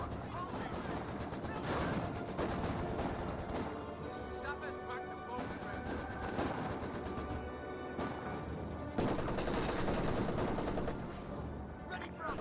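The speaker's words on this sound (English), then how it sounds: "MG-34 firing away" An MG-34 machine gun rattles off long bursts in Company of Heroes 2, fast continuous fire with short breaks between bursts, layered over other battlefield gunfire and game sounds.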